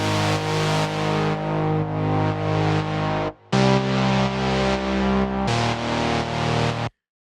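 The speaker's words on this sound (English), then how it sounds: "We have a bit of distortion on the sound, a bit of chorus and a bit of reverb here" A sustained, buzzy Serum synthesizer chord for melodic house and techno plays in three held sections with brief gaps, its tone gritty with distortion, shimmering with chorus and washed with reverb.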